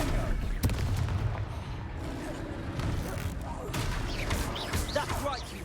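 Spell blasts from Stupefy and Confringo crack and boom in rapid succession during a Hogwarts Legacy video game duel, layered over dense battle noise and voices.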